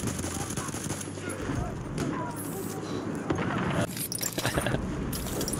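Rapid automatic fire from a medic's gun in Battlefield 1, repeated bursts of shots over a noisy battlefield backdrop, close and sustained across the whole span.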